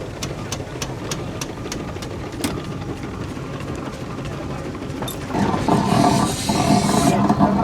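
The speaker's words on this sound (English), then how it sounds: "And the next engine is the Fowler." A Fowler steam traction engine runs at a steam and country fair, with a steady low mechanical chug and regular sharp clicks, then a louder, broader hiss-like roar swells in near the end.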